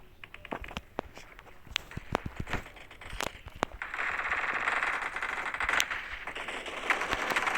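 Repeated gunfire in a crowded video game shooter: sharp shots spread across the clip, some in quick bursts, over a steady background of game noise.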